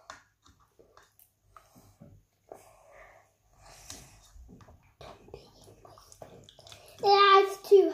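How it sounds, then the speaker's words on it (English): Water poured into a slime mixture, a soft splashing burst near the end after quiet moments and children talking in the background. "Add the water. A bit more."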